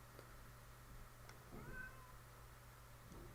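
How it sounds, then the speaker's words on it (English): A cat named Kai meows once, softly, in the background of a quiet indoor room, a short rising-and-falling call over a low steady hum. "if you can hear the cat in the background"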